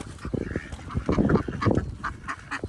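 A flock of ducks at a feeding spot, quacking in a busy, overlapping chorus of short calls, fairly close and moderately loud, with no voices.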